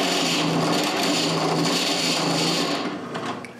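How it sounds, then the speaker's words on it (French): A step drill bit bores a larger hole through a pulley from both sides, producing a loud, steady whirring grind close by that tapers off near the end. "Je perce un trou plus gros avec une mèche à étage en perçant des deux côtés."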